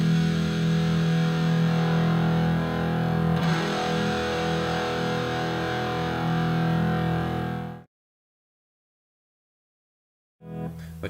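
A distorted electric guitar rings out through an amp with a dark, muffled tone lacking treble, then cuts to silence before a brief return.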